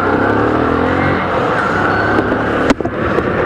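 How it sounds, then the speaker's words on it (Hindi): A motorbike engine runs steadily on a Bangalore highway ride, a loud continuous drone with wind rush, close and alone, with a brief sharp knock near the end. "अब एक बार में स्टार्ट हो जा रही है बाइक।"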